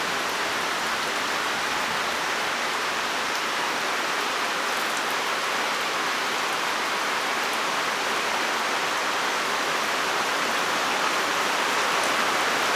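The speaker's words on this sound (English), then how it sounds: "we are about to get slammed with some heavy rain." Dense, steady heavy rain from a thunderstorm in southeastern Pennsylvania pours without letup, a loud continuous hiss of water striking surfaces, with no voices.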